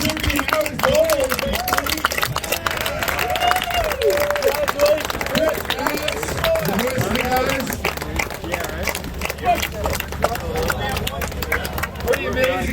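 A crowd applauds trophy winners, a dense, steady wash of clapping that runs the whole time. A voice speaks over it and cheers rise within the noise.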